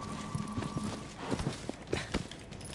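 Agro the horse's hooves clop in Shadow of the Colossus, a quick run of soft, close hoofbeats at a trotting rhythm over faint game ambience.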